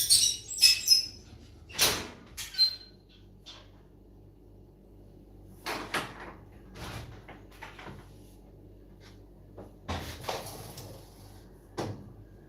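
A door is pried open on a farm yard in Jamaica, giving scattered wooden clunks, bumps and faint squeaks at close range over about twelve seconds, with little talk.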